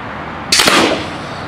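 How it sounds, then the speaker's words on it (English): A full-auto battery-powered air gun fires once, a single sharp crack with a short broad burst of noise trailing off, loud and close, with no voices. "And firing for the second time"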